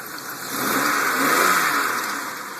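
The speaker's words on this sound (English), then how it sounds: "Let me see if I can rev up the engine for you" A 2002 Chevrolet Malibu engine, oil buildup on the valve covers, revved once from idle: the pitch climbs smoothly, holds a sustained mid-range roar, then eases back down, heard up close with no talking.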